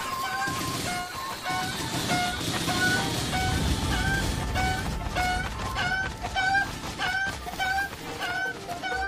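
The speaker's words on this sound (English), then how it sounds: "In Breath of the Wild, using a bird as an exterminator." Chickens in Breath of the Wild cluck repeatedly and rapidly, close and loud, their squawks running in quick agitated sequences over a busy rumbling background.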